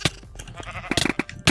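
Sheep bleating in a Minecraft Mineplex arcade game, several short bleats in quick succession, fairly close, over faint game background noise.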